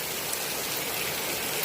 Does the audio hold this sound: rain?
yes